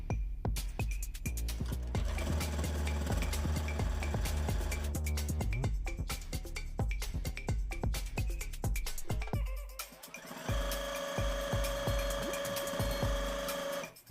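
A sewing machine stitches the bottom of a shopping bag made from plastic bags, running continuously at a fast rhythmic chatter close by, with a brief slowdown partway through before resuming.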